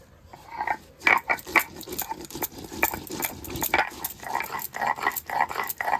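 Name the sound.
grinding cumin, ginger, garlic on a grinding stone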